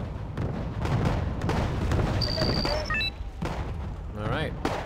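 Anti-aircraft gunfire in the military strategy video game Wargame: AirLand Battle, heard as a dense run of rapid shots and booms within a busy battle mix with a few electronic beeps, steady and fairly loud throughout.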